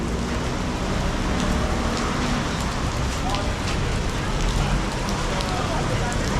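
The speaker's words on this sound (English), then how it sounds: "And it's really raining here." Heavy rain pours steadily onto a pedestrian lane in Macau, a dense, continuous hiss of drops striking pavement close by, with no voices over it.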